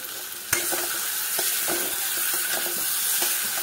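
Pointed gourd and egg cooked down in a spice masala in a pan, a steady frying hiss with a sharp knock at the start and soft, irregular scraping stirs, close and unaccompanied by speech.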